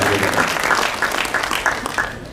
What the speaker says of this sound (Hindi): मुख्यमंत्री आदरणीय भजन लाल जी और हमारे वित्त मंत्री उप मुख्यमंत्री दिया कुमारी जी और हमारे प्रदेश के पार्टी के मुखिया आदरणीय सीपी जोशी जी को ताली बजा करके अभिवादन करें